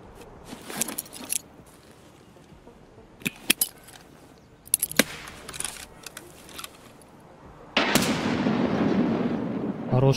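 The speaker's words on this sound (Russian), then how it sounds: "Хорошая граната была." A grenade goes off in Escape from Tarkov, preceded by scattered sharp gunshots and clicks, then a loud sustained blast and rumble that carries through the final seconds.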